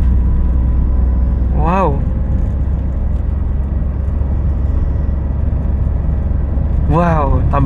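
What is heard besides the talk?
Daihatsu Rocky 1.2 manual car engine accelerating hard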